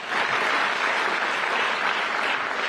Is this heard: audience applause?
yes